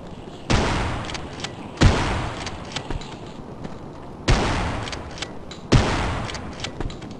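Four loud, sharp gunshots in the Afraid of Monsters horror game, spaced a second or more apart, each a broadband crack with a rumbling tail that fades before the next shot.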